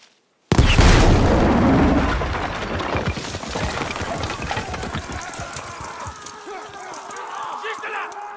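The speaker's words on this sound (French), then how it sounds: "On va utiliser ce canon!" A cannon fires in the Battlefield V video game, a sudden heavy blast that booms loudly and then rolls into a long rumbling, crackling tail of debris and distant gunfire, with game voices shouting underneath.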